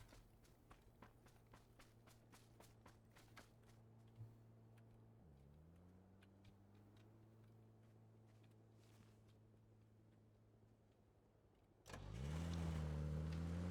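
A car engine in the PUBG battle royale game idles steadily under quiet footsteps, then roars loudly as the vehicle accelerates near the end.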